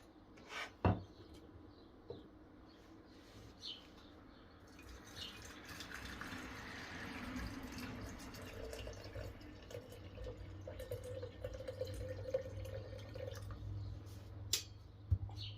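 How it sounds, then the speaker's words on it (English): Hot water pours onto dried hibiscus flowers for tea, a soft, quiet trickle and dripping close by, with a few sharp clinks near the start and end. "I will be putting in some dried hibiscus flower and adding hot water to make"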